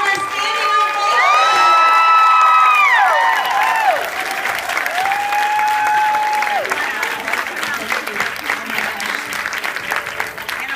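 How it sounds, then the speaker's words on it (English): An audience gives a standing ovation at a business event honoring a new national sales director, with loud sustained clapping, cheers and whoops alongside bright rising and falling tones, slowly fading toward the end. "Let's give her a standing ovation."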